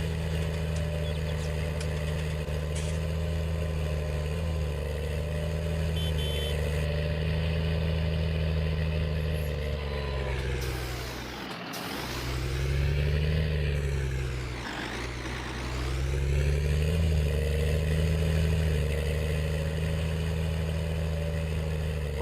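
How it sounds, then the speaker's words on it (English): The engine of a Volvo R-100E dumper in Farming Simulator 19 runs as a steady, loud, low diesel drone that dips and swells twice as the revs shift, then settles back to a constant hum. "This engine sound."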